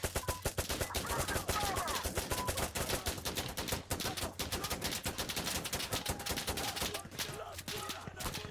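Sustained heavy automatic gunfire in the tactical shooter game Insurgency: Sandstorm, a Domination match on the Forest map: dense, rapid overlapping bursts fill the whole stretch loudly and close, with a few brief gaps near the end.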